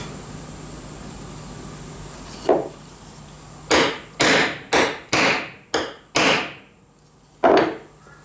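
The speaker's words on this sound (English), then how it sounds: "give that a good whack with a hammer to bed the spur center into this piece of stock." A hammer strikes a spur center into a piece of wood stock for lathe turning, seven sharp, loud whacks that ring out in an irregular series after a single lighter tap.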